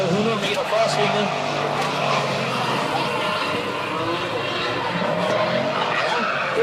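A drift car on a race track slides through a corner with sustained tire squeal and roaring engine across the whole stretch, loud and continuous, while a commentator talks over it.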